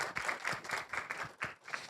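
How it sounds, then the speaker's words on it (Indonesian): Scattered clapping from a small group of people rises and falls in quick uneven bursts, faint and somewhat distant, during a casual gathering where a volunteer is called forward. "kasih tepuk tangan"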